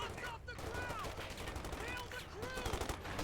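Rapid bursts of automatic gunfire rattle continuously through a battle in a real-time strategy game, with infantry assault grenadiers firing on riflemen amid dense overlapping shots and whistling effects.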